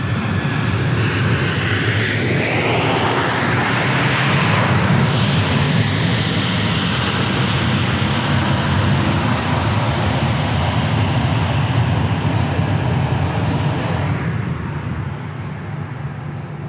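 A Piaggio propeller plane at Dallas Love Field roars loudly and steadily, close by, its engine tone sweeping as it passes and easing slightly toward the end, with no speech.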